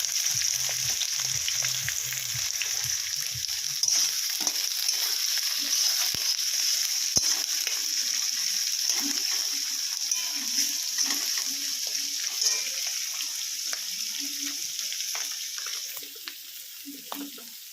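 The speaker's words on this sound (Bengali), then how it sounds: "এবার কাঁচা পেঁয়াজটা ঢেলে দিলাম।" Raw onions sizzle steadily in a hot pan with cumin for a mutton curry, a continuous close frying hiss with occasional stirring scrapes and no talking.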